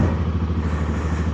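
Steady low rumble of a motorcycle riding through fresh snow on a slippery road in Minnesota, engine droning evenly and close with wind noise and no voices.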